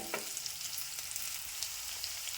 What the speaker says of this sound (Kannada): ಉಳ್ಳಾಗಡ್ಡಿ ನೋಡ್ರಿ ಫ್ರೆಂಡ್ಸ ಕಲರ್ ಚೇಂಜ್ ಆಗುತ್ತಾ ನಾನು ಇದ್ರೊಳಗೆ ಹುರಿಬೇಕು ನೋಡ್ರಿ